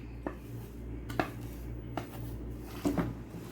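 Crushed dates and dry fruits are mixed for laddu, giving faint, sparse clinks and knocks of a utensil against a bowl over a low steady hum.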